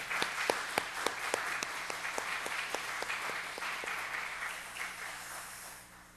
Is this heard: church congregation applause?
yes